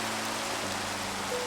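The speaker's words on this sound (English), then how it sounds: "We've got hail now." Hail in a Minecraft storm pours down as dense, hissing broadband noise, a steady loud wash of falling ice and rain with no pauses.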